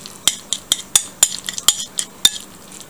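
A utensil stirs a mixture seasoned with black pepper, sending out quick, bright metallic clinks and scrapes against the dish in an uneven, close rhythm, with no voices.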